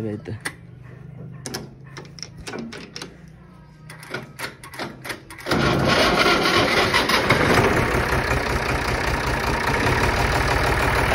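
A farm tractor on a sowing-season morning: a few clicks and rattles, then the engine catches and settles into a loud, steady, close running roar.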